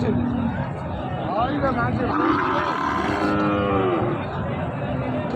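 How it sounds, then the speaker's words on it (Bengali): Sahiwal cattle, including a young one, mooing at a busy cattle market in Joypurhat, with several drawn-out moos over a constant crowd babble and nearby talk. "এটাও একটা শাহিওয়ালের বাচ্চা"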